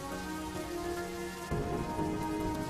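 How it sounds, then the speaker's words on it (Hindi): Heavy rain pours down during a strong storm in a rural village, a steady drumming wash on surfaces that swells louder partway through, with a faint tonal hum underneath. "जल्दी कर, बहुत तेज तूफान है"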